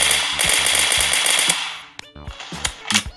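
Rapid automatic gunfire in a video game shootout, a loud sustained burst that cuts off sharply, then a few scattered shots.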